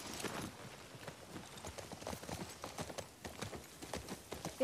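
Soft, steady clip-clop of horse hooves trotting in The Last of Us Part II, faint and continuous throughout.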